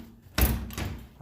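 A door thumps shut nearby with a single solid impact and a brief rattle afterward, with faint background hum.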